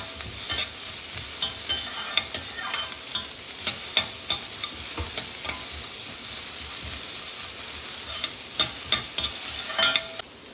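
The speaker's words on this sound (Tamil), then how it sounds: "இதோட சும்மா ஒரு 2 நிமிஷம் வதக்கினா போதும் வெஜிடபிள்ஸ் போட்டுட்டு" Vegetables for broccoli Maggi noodles sauté in a hot pan, a steady close sizzle and crackle running throughout with frequent light scrapes of a stirring spoon and no voices.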